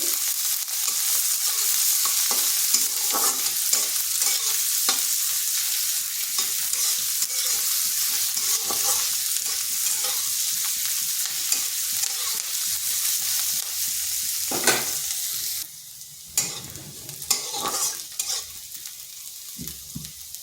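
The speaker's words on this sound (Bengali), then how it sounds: "পেঁয়াজটা হালকা একটু ভেজে নিচ্ছি" Chopped pieces of a large onion fry lightly in a pan with a continuous sizzle, while a utensil stirs and scrapes in repeated strokes; the sizzle drops briefly before picking up again.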